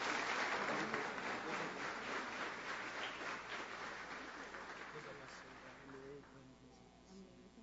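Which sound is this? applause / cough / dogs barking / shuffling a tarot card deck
applause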